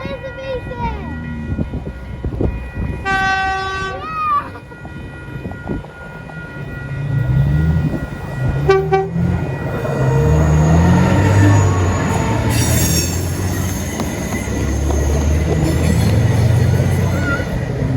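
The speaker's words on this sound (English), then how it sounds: "The train is right here. Look, there's the V-set." A V set passenger train passes at Faulconbridge in the Blue Mountains, Australia, starting with a horn and bell tones, then a loud, close rumble and clatter of wheels and cars rolling by, with people talking early on.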